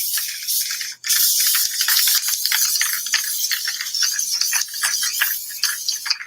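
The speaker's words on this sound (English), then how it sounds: "this is Montana brand spray paint, so it'll dry a lot quicker than most" Montana brand spray paint hissing from the can in long, loud bursts with one brief gap near the start, the nozzle spray close and continuous with faint rattling texture.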